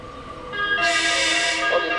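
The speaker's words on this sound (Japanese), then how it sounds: "1番乗り場、新快速電車が通過いたします。" A JR West special rapid train rushes through Zeze Station on a foggy day with a rising, loud roaring wash of noise and steady tonal hum, sustained for over a second.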